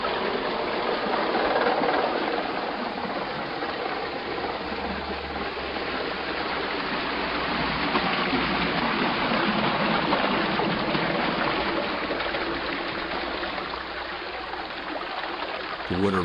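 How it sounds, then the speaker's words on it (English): Water pours through the open gates into a Morris Canal lock in Wharton, making a steady, loud, broadband rushing roar that holds constant throughout, close by and uninterrupted. "When the gates are open, the water pours in."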